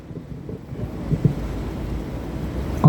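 Steady rain falls outdoors during a press conference, a dense continuous hiss with low rumbling wind noise and occasional louder drops or patters on the microphone, with no one speaking.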